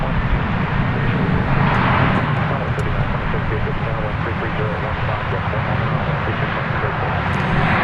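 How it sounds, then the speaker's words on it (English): An American Airlines Airbus A321 bound for Las Vegas roars loudly at DFW Airport, a dense rumbling jet noise that holds strong throughout with little change. "It's going to Las Vegas. It's an Airbus A321."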